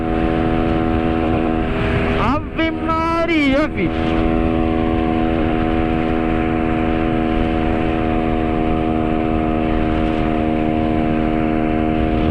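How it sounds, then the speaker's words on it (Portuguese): A Honda Pop 110i motorcycle at top speed holds a steady, loud engine drone, then stutters against the rev limiter in a brief burst of rapid cutting, while someone talks throughout. "Ó, a moto já cortando."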